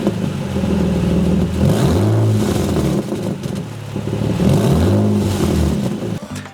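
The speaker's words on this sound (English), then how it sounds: "the flex pipe it's called, on the white pipe is leaking like crazy, and the exhaust just doesn't sound good." Nissan 350Z engine revving with a badly leaking exhaust flex pipe on the Y-pipe, two rising rev pulls over a loud rough idle, close and raspy with no talking.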